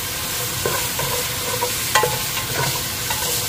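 Aromatics sautéing in a pan for Filipino kare-kare beef stew, a steady close sizzle with a few soft spoon scrapes and stirs, heard alone without talk.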